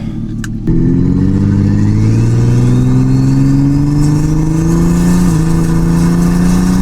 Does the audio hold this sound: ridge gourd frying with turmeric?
no